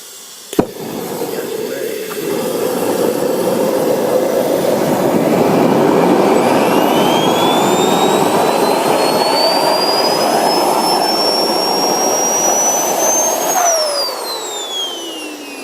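An SPS Wren-54 model jet engine is throttled to full, with a sharp click and then a loud roaring whine that climbs steadily in pitch, holds, then drops away as power is cut near the end.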